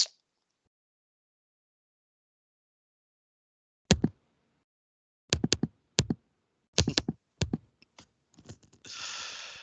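Keyboard clicks picked up by an open microphone on an online call: sharp, close taps in irregular clusters after a stretch of silence, ending in a short run of faint noise.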